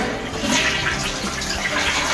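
A toilet flushes in a home bathroom with a loud, steady rush of swirling water throughout, no voices over it.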